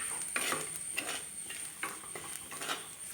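Chili powder and other ground spices being stirred in a pan for a fish curry: repeated close scraping strokes of a spoon against the pan over a soft sizzle, no voices.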